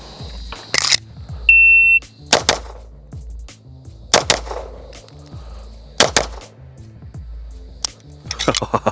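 Sharp pistol shots from a Gibson Custom Guns 2011 with a 9-pound spring, fired in quick doubles, several close loud pairs cracking out across the clip with quiet gaps between, plus a brief electronic beep near the start.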